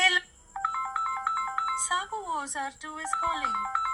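A mobile phone rings with a repeating electronic ringtone melody while a caller-name announcement app speaks over it in a synthetic voice.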